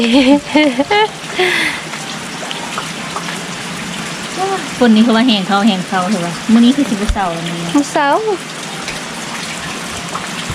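Heavy rain falls outdoors as a constant wash of noise beneath lively conversation between several people.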